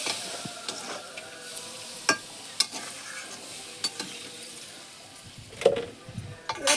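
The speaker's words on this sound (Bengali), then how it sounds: "আর একটু জল দিয়ে দেবো।" Water hits a pan of frying golden loach fish curry with a soft, steady sizzle, while a spoon clinks and scrapes against the pan now and then.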